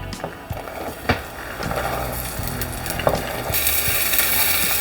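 Chickpeas tipped into a pan of lightly fried onions for a Nepali chickpea and potato curry, a close crackling sizzle with clattering scrapes and knocks, growing steadier and brighter toward the end.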